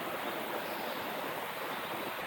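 A small stream flows past a cave in the Kelantan hills: a steady, even rush of water that stays constant throughout, with no voices.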